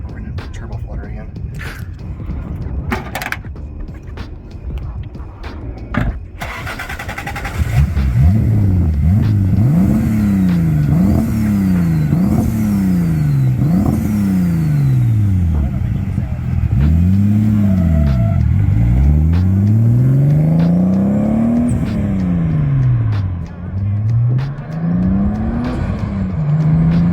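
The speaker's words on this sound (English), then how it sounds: "We're gonna turbo flutter again." A turbocharged car's blow off valve, fitted with a 3D printed SSQV insert, gives repeated loud fluttering chatter as the throttle is released. The bursts cycle over a revving engine and follow some quieter handling noise at the start.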